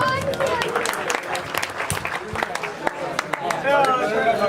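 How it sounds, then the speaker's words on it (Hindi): Audience applause at a stage ceremony for a championship trophy, a steady patter of many hands with voices and crowd noise mixed in throughout. "तालियां इनके लिए स्पेशल जरा"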